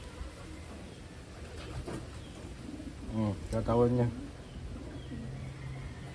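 Taiwan pigeons cooing at close range, soft throaty coos rising in the middle, with a person speaking nearby.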